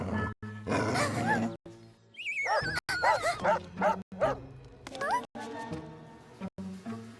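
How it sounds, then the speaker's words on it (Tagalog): A dog barks and yips repeatedly in agitated bursts, with whimpering, growly tones, close and loud, overlapping with some talking. "Oh, isang galit na aso."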